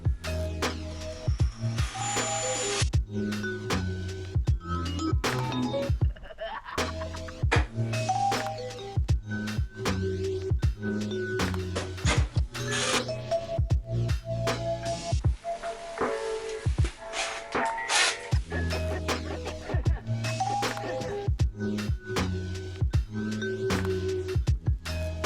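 Screws being driven into a wooden collar on a chest freezer, a steady run of sharp clicking and whirring bursts from a power driver, repeated rapidly and close up throughout.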